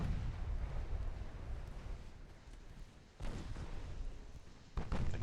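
Heavy cruisers firing their main guns in the naval video game Ultimate Admiral: Dreadnoughts, deep booming rumble with a couple of distinct heavy blasts, moderately distant and low, no talk.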